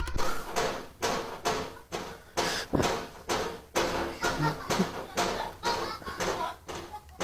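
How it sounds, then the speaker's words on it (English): Repeated banging on a window, a fast series of loud, close thuds and knocks coming in rough bursts throughout, with no talking. "Somebody banging on the window."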